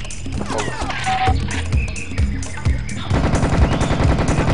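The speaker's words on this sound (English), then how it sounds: "Tommy gun." A Tommy gun fires in a video game, rapid rattling bursts of automatic gunfire that grow denser toward the end, loud and close.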